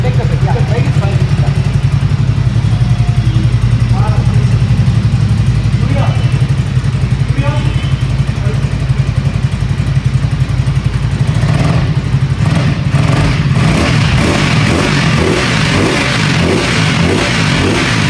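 A Ducati motorcycle engine idles after starting with a loud, steady, throbbing rumble that runs the whole time, mixed with mechanical clatter, while people talk over it.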